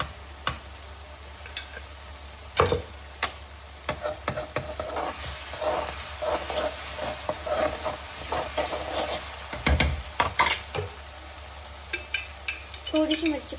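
Spinach bhaji frying in oil with spices, a soft steady sizzle broken by irregular scraping and clinking of a spoon stirring the pan, with brief talk.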